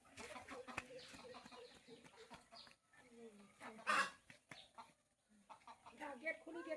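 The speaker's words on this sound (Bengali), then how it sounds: "এই যে মুরগি চলে আসছে।" Chickens cluck and squawk nearby in a home setting, with several short calls scattered among people talking.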